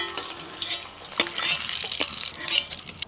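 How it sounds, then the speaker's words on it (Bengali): Eggs lightly frying in hot oil, a faint, steady sizzle with soft clinks and stirring of a pan nearby, no talking. "ডিমগুলো হালকা করে ভেজে তুলে নিচ্ছি"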